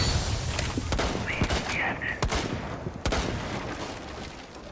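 Gunfire in Rainbow Six Siege shooting out a wall, a dense burst of rapid shots with a few sharp louder cracks and thuds, close and loud, while a voice talks over it.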